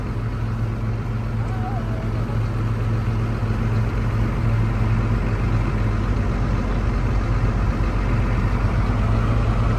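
A John Deere 7810 tractor engine idles steadily nearby on a farm field, a constant low diesel drone with no change in rhythm.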